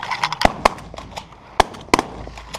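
Shotguns fire during a duck hunt: about five sharp bangs in quick, irregular succession, some close and loud and others lighter and farther off, with faint outdoor noise between them.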